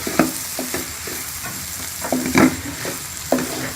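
A spoon stirs egg and potato curry with garam masala in a pan, making a handful of clear scraping strokes at an uneven rhythm over a low sizzle, close and fairly loud, with no voices.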